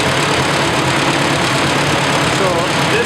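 A 1964 Massey Ferguson MF65 tractor engine runs steadily at speed with a continuous, loud, even drone throughout, its clutch not stopping it; a faint voice may be present beneath the engine noise.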